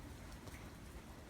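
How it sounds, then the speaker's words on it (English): Rain falling outside, a faint steady patter with no voices. "I'm glad that it's raining"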